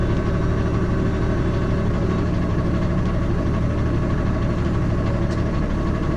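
A small tractor engine idles steadily and close by during a farm straw-hauling job, a continuous low rumble with a slight knock that holds unchanged for several seconds, with no voices.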